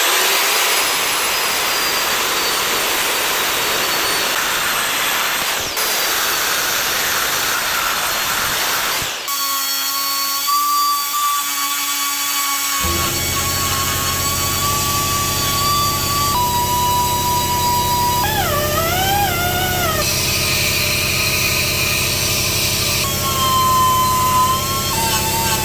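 A power tool shaves down the front fork legs of a Harley Sportster, a loud, continuous high-pitched grinding whine that shifts in pitch and tone as the cut changes and never stops across the whole stretch.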